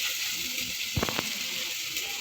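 Tomatoes for a Sunday chicken gravy sizzle softly in a pan, a faint steady frying hiss with a few brief stirring clinks near the middle.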